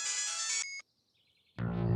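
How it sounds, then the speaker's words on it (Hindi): A phone ringtone plays loudly as a bright repeating electronic melody, stops briefly with a fading tone, then gives way to louder indoor household sounds. "जैसे भी तुलसी का फोन आता है भाग जाता है"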